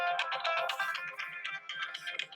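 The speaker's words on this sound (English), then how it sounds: "phone's going off" A phone ringtone plays continuously in a repeating melodic pattern, fairly loud and close, with no talk over it.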